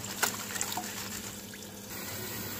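Water trickling and splashing as fresh prawns are rinsed clean, a soft steady running-water sound with a few small splashes near the start, close and quiet.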